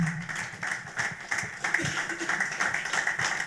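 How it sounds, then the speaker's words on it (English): An audience at a talk on the Nigerian economy claps steadily for a speaker, giving a dense, continuous patter of hands that stays fairly even throughout the stretch. "I think you should continue clapping."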